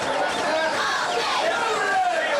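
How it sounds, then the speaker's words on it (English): Large crowd at a night college football game between Lancaster and Grove City, roaring and cheering loudly in a steady, sustained wall of voices from the stands. "A big crowd here tonight for this football game."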